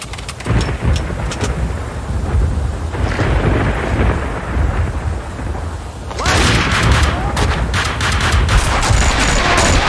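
Heavy rain pours steadily in Max Payne 2, with loud thunder rumbling and cracking over it, swelling into a stronger downpour with sharp bursts partway through.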